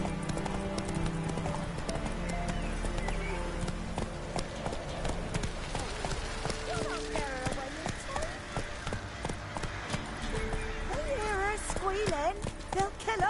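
A horse gallops in The Witcher 3 with rapid, rhythmic hoof clip-clops that stay close and steady throughout. Game music and character voices play alongside the hooves.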